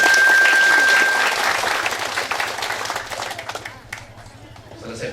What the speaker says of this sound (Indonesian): tepuk tangan untuk Pak Bupati.